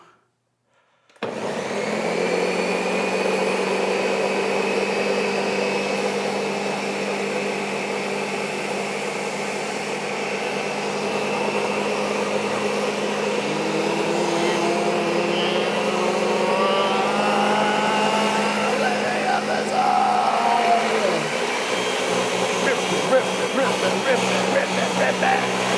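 A high-powered generic-brand mixer blending hot chicken parmesan ingredients runs loud and steady for most of the clip after a brief silent start, a continuous whirring roar with slight shifts in pitch near the end.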